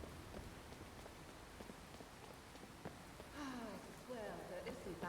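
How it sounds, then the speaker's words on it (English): Rain falls steadily in the fantasy video game Skyrim, a soft, constant patter on surfaces heard faintly in the background, with a person's voice coming in briefly toward the end. "I really wish the rain would stop."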